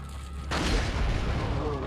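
A loud explosion bursts in the Resident Evil 4 HD video game after a brief quieter lead-in, followed by a sustained rumbling roar that holds steady to the end.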